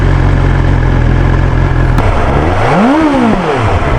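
A BMW S1000 XR motorcycle engine runs loud and close with a steady rumble, then revs up and drops back in one smooth sweep near the end.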